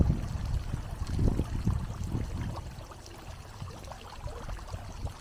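Water from a fountain in the Jardim do Paço garden in Castelo Branco, Portugal, splashes and trickles continuously, a steady watery wash with no voices.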